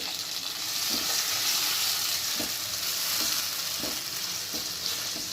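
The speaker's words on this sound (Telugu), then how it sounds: "ఇవి బాగా మెత్తబడేంత వరకు మగ్గనివ్వాలండి ఇందులోనే కొంచెం చింతపండు ఇంకా కొన్ని వెల్లుల్లి రెబ్బలు వేసి బాగా మగ్గనివ్వాలి" Red chillies, tamarind and garlic cook in a pan, with a continuous soft sizzle and a few faint stirring scrapes at intervals. The sound is quiet and close, with no talking.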